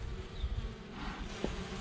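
Honey bees buzz steadily at a hive entrance fitted with an entrance reducer, a close, continuous droning hum.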